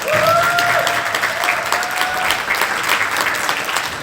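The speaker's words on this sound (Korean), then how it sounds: "박수로 한번 쳐주세요" An audience claps warmly and steadily for about four seconds at a Korean community choir performance event, with a voice briefly rising over the applause.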